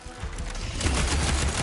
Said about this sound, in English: Fire a few shots from that ballista.